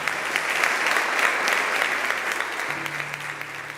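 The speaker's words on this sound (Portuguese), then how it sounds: "Vamos aplaudir o Senhor por essa palavra." A church congregation breaks into sustained, even applause, a dense wash of clapping hands that carries on steadily throughout, with a low sustained tone entering near the end.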